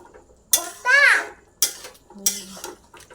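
Potato curry sautéed and stirred in a pan, with a few short scraping strokes of a spoon against the pan and soft sizzling in between, close by, with a brief voice.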